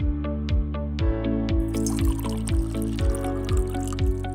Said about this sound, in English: To dispense a beverage, press the button for the required beverage